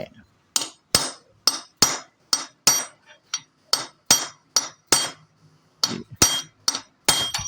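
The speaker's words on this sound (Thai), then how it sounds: "ตอกให้รูมันแน่นนะเพื่อน เทคนิคในการตอกรู ให้หัวนอนมันแน่น" Steady, evenly spaced sharp metallic hammer blows, about fifteen in a row, struck up close while a hole is tapped tight during repair of an old 20-year-old Suzuki motorcycle.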